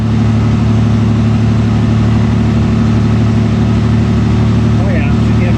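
A 1986 Mercury Cougar engine runs at raised speed to warm its exhaust, a loud, steady droning hum held close throughout without pauses.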